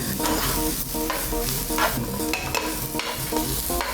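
Ginger, garlic and onion sauté loudly in a pan, with a busy crackling sizzle and repeated scraping strokes of a spatula up close throughout.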